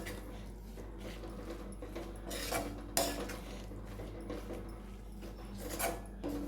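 A spoon stirs gongura pulihora rice in a pan, with soft scraping and a few sharper metallic clinks against the pan over a steady low background hum.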